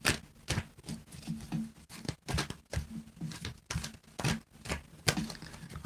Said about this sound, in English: so you can tell me when to stop shuffling, Mama Sushi.